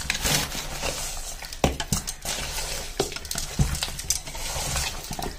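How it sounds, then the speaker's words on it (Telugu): Country chicken curry being stirred and mixed in a pot, with wet scraping and clacking strokes at an irregular rhythm, close and moderately loud, with no talking. "ఇలా అంతా బాగా కలిపేసుకొని"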